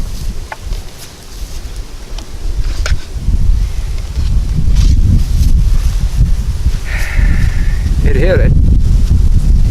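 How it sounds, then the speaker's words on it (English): Gusty wind buffets the microphone outdoors at a shooting range, a steady low rumble that swells louder in the second half while someone talks over it. "The wind is blowing, as you can see, the wind is blowing from this direction"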